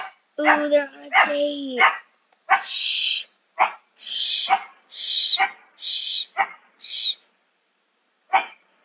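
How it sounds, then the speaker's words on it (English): A pet dog indoors barks repeatedly, with a few drawn-out whining barks followed by a string of sharp, close yips at a steady pace, while a person speaks between them. "sorry, that's my dog."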